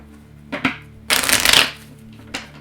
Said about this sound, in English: I'm just going to shuffle it backwards just to kind of prep the deck